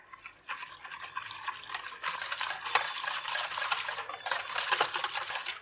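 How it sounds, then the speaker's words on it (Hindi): A gram flour and water batter is mixed in a bowl, a continuous close wet swishing and scraping that swells and eases with each stroke, with no talking. "और इसे मिक्स कर लेंगे।"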